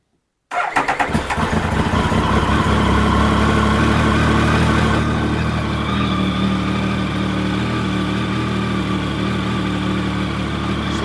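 A Triumph Sprint GT 1050 motorcycle engine cranks and catches abruptly, revving briefly before settling into a steady, loud idle that continues close by with no other sounds.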